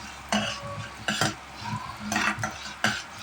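Urad dal being roasted in a pan, with several sharp scraping strokes of a utensil stirring the dry lentils among soft rattling and a faint sizzle, heard close with short pauses between strokes.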